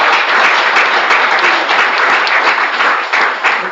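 Applause for a webinar speaker at a summer school, a dense, steady burst of clapping from several people that lasts the whole few seconds.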